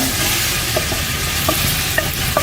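Chopped onion frying in hot olive oil in a pan, a steady loud sizzle with a few light clicks of stirring spread across the clip, and no talking.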